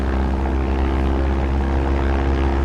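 Loud, steady drone of a large propeller airplane's engine in a flight simulator game, a constant humming roar with layered low tones throughout, no talk.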